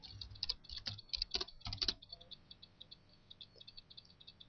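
Keys on a computer keyboard clatter in quick, uneven taps, a dense flurry at first and then sparser faint clicks, quiet and close, with no talk.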